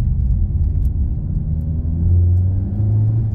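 A Honda Civic Type R FK8 downshifts, its engine a loud, close, low rumbling drone that swells slightly as revs rise after the gear change, with no voices over it.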